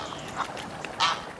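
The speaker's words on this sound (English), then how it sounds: "Every time I go, I see both ducks and geese." Ducks and geese at a pond give two short, fairly loud calls, the second stronger, over a low background murmur.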